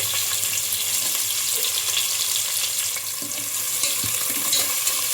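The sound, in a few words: frying sliced onions with bay leaves, cloves and cumin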